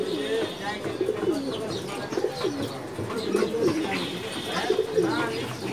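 Kanthi-necked pigeons coo steadily in a loft, rolling calls repeating close by with a few chirps from other birds, while people talk over them.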